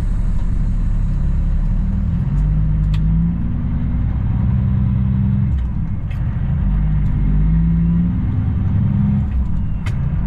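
A truck's engine drones steadily and loudly from inside the cab as it pulls away, a deep rumble with slight rises in pitch as it gets moving, punctuated by faint clicks.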